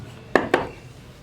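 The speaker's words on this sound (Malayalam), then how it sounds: "ഇനി നമുക്ക് മിക്സിയുടെ ജാർ എടുക്കാം" A mixer grinder jar is picked up and set down while carrot wheat cake batter is prepared: two quick, close metallic clanks a fraction of a second apart, then near silence.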